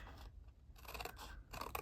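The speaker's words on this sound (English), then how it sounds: "I'm just going to turn it around and cut." Scissors snip through paper in a few quick, crisp cuts, close up and fairly quiet.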